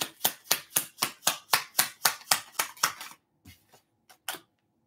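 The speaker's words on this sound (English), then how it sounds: "Clap for Knight of Wands." Rapid series of about a dozen sharp hand claps in a steady rhythm over a tarot card, close and crisp, then a pause and a few scattered softer claps trailing off.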